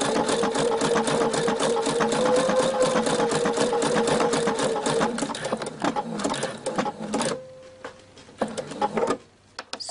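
Husqvarna Viking Brilliance sewing machine stitching steadily with a fast, even mechanical chatter for about seven seconds, then slowing and stopping as it reverses direction, with a brief hum and faint clicks afterward.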